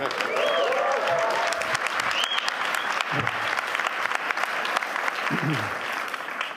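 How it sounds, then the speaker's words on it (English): Sustained audience applause at the World Economic Forum fills the room steadily from start to finish, a dense wash of many hands with a few faint voices underneath. "That was not a large applause. Start again."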